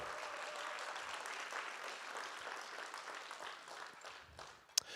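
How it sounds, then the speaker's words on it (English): Guests at a Make-A-Wish charity fundraising auction give steady, sustained applause, a dense patter of many hands that fades near the end, with one sharp knock just before it closes. "Big round of applause, all the generous people"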